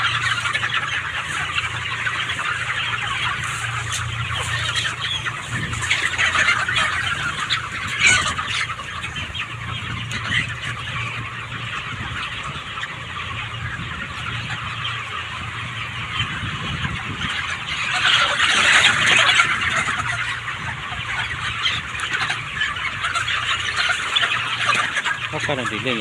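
Chirping and squealing of 29-day-old chicks at feeding, a dense, steady chorus of many birds close by with a brief swell near the end, someone speaking under it at times.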